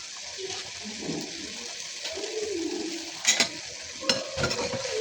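Chopped tomatoes and spring onions fry in a pan while a spatula stirs them, making soft scraping and a steady gentle sizzle close by, with a few sharper clatters partway through.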